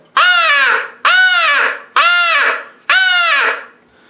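Loud, harsh crow-like caws blown on an HS Strut crow call, four long drawn-out blasts in an even rhythm with short pauses between, close and alone.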